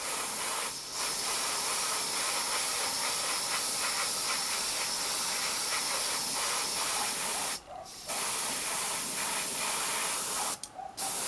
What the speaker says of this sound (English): now we have finished the airbrushing coats